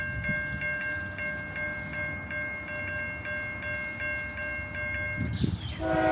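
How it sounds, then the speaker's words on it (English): A train approaches a railroad crossing while steady crossing bells ding repeatedly, with low rumbling throughout and a brief burst of louder clatter near the end. "the next train would arrive."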